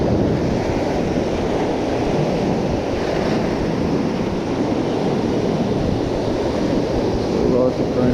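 Rough surf and gusting wind at a Mediterranean shore fishing spot, with a steady, dense roar of breaking waves and buffeting wind noise on the microphone throughout.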